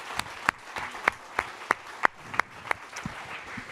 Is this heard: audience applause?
yes